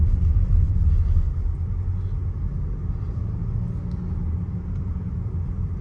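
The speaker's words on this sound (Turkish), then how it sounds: "Şimdi hafiften gaza yüklenelim." Inside a Range Rover Velar as the driver gently presses the accelerator, a steady deep engine and road rumble fills the cabin, loud at first and easing slightly, continuous and without talk.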